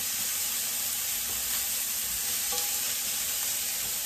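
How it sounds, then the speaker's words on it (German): Pork belly bacon fries in a pan with a constant close sizzle and hiss, and a few small pops and clicks. "braten und packen relativ schnell auf unseren Speck mit rein, unseren Bauchspeck."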